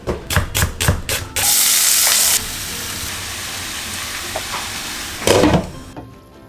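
Lots of chopped onion dropped into a little hot oil for tori sabzi, starting with several sharp stirring clatters, then a loud burst of sizzling that settles into a steady frying hiss, with another brief clatter near the end.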